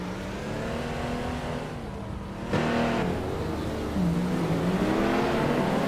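Race cars roar in a racing video game featuring a 1998 Porsche, a loud, steady engine drone with pitch shifts as the cars rev and jostle for position.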